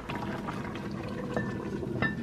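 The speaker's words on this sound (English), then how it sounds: "we're going to cover the pot and let it simmer for 20 minutes." Chicken and dumplings simmer in a covered pot with a soft, low, continuous bubbling and a couple of faint higher glassy ticks. The sound is quiet and close, with no voices.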